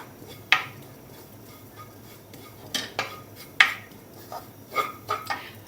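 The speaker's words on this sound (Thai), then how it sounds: "คั่วพริกแกงเราให้หอมค่ะ" Curry paste dry-roasted in a pan for a Thai chicken and bok choy curry with shrimp paste, heard as sparse metal clinks and scrapes of a utensil against the pan over a quiet background.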